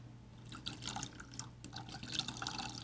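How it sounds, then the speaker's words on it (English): Milk poured into a meatloaf mixture makes a steady, close, splashing and dripping patter, moderately quiet and uneven, with bursts of wet splatter and no talking. "I have 3 cups of milk, and you just pour it in."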